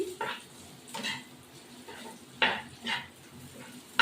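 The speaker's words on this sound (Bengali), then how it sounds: "এবার এই পেঁয়াজটা ভাজছি।" Onions frying in a pan for a chicken chaap dish, heard as faint, intermittent scrapes and clinks of stirring, a few sharp clatters spaced through a quiet background.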